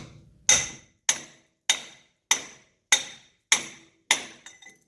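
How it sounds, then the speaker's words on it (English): A hammer strikes metal seven times at an even, steady pace, driving a bushing into a first-generation Toyota Tundra, each blow sharp and ringing briefly before fading, close up with no talking. "I am hitting it with the side of the hammer just so I get a nicer, even hit on the end."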